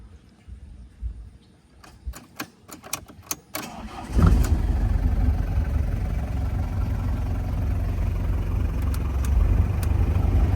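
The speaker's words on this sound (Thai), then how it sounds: "เดี๋ยวมาสตาร์ท" A few clicks and clunks, then the 2.5-litre diesel engine of a 2005 Mazda Fighter pickup cranks and catches, settling into a loud, steady rumbling idle that continues to the end.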